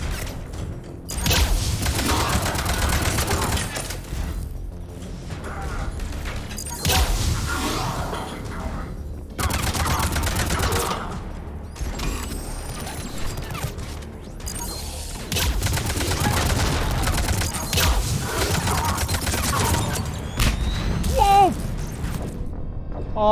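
Gunfire in Mass Effect 3 Legendary Edition battle: dense, continuous bursts of shots and impacts with intermittent louder volleys, mixed with crashes and thuds, running throughout.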